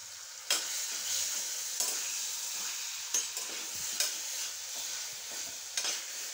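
Yogurt-marinated chicken sizzling and frying in a hot pan, a steady crackling hiss with occasional sharper pops and stirring scrapes.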